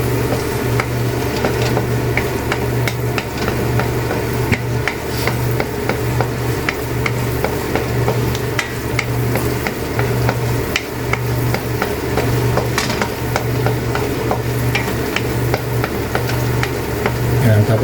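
Carrots and potatoes fry in a pan for menudo, a continuous close sizzle under steady stirring and scraping, with a low hum running beneath and no talk.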